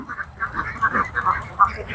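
Ducks kept in an enclosure quack in a quick run of nasal calls, several overlapping at moderate distance.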